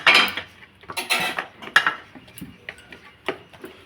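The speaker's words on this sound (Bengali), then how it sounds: "এই যে আলু কাটছি, আলুর তরকারি হবে এখন" A knife cuts through white potatoes for a potato curry, giving irregular light clicks and taps on a cutting surface, close and fairly clear, with no talking.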